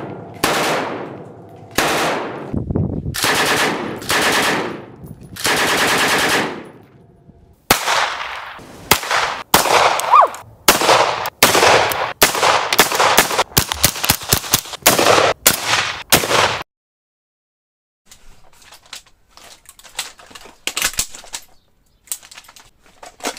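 Heavy guns fire in a series of loud, sharp shots, some blasts ringing out longer and others coming in quick clusters, followed by a quieter stretch with faint scattered pops toward the end.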